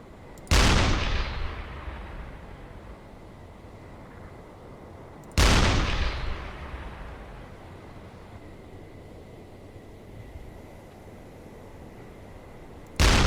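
Deck gun of a U-boat in a submarine video game fires three heavy booming shots several seconds apart, each with a long rumbling decay, with no voices.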